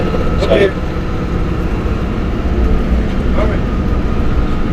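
Several large marine diesel engines running in the engine room of the JOIDES Resolution drilling ship make a loud, steady, dense roar with throbbing low rumble, and faint voices are nearly buried beneath it.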